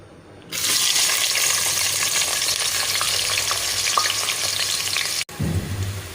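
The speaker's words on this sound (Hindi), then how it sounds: "अब इसमें मैं प्याज ऐड करूँगी।" Onions hit hot oil in a deep pot for chicken pulao, bursting into loud, dense frying sizzle after a quiet start, crackling steadily up close before a sudden cut and a softer stirring sound.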